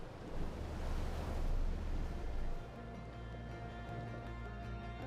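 Flowing water and surf-like wash from a raft ride on a looping river in the Outer Wilds video game, loud and turbulent at first, then settling into a softer steady flow under sustained musical tones.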